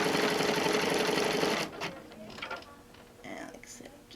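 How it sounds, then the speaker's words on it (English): An embroidery machine stitching clear vinyl down onto a zippered pouch in the hoop, a fast close mechanical rattle for about a second and a half, then stopping into quieter shuffling and soft talk. "we're going to stitch the clear vinyl down"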